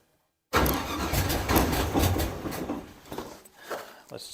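An engine cranks and catches, then runs roughly at a loud, close idle with uneven pulses and a brief dip before picking up again.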